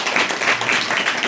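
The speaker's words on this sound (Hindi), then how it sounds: "एक अच्छा ताली बजाए प्रभु के लिए।" A church congregation clapping together in praise, a dense, steady wash of many hands with rhythmic surges, close and fairly loud, with no voices over it.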